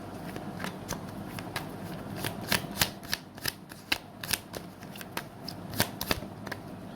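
Tarot cards being shuffled up close, a steady run of crisp riffling flicks and slaps that peak into sharper bursts, with no voices over them.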